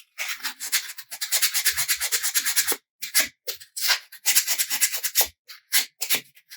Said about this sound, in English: I'm going to go ahead and scuff up the inside a little bit.